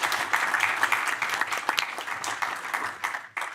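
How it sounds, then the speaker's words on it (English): A conference audience applauds steadily for a few seconds, a dense wash of many hands clapping that fades slightly at the end. "So let's have a round of applause."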